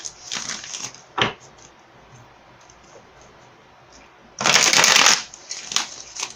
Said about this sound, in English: we're going to pull some clarifying cards for you